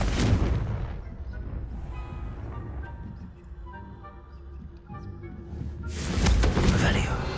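A Confringo spell blast in the video game Hogwarts Legacy bursts out loudly with a booming crack, then its energy fades into a quieter tonal tail before a second forceful blast near the end.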